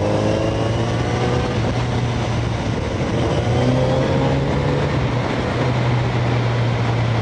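A Kawasaki Z900RS motorcycle engine accelerating on a winding road, a loud, continuous drone with slowly climbing tones under steady rushing wind noise and no talk.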